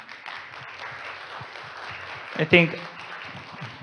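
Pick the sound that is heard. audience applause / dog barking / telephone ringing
audience applause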